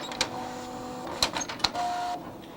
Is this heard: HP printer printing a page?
yes